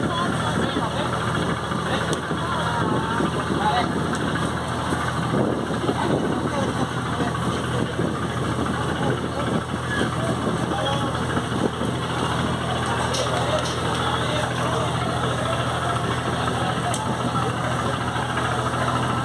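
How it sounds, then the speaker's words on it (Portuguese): Diesel engine of the passenger motor boat José Lemos III idling steadily as it docks at the riverside in Manicoré, Amazonas, a constant low drone throughout with people talking in the background. "Momento da atracação do barco motor José Lemos III."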